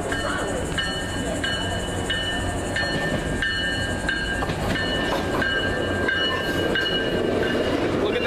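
Tri-Rail train pulling out of Deerfield Beach station, a loud, steady rumble with rhythmic clickety-clack from the wheels and metallic squeals above it, close by throughout.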